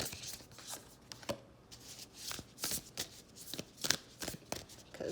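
A tarot card deck being shuffled close up, with repeated quick riffling and slapping bursts of papery card noise in an irregular rhythm, no talking.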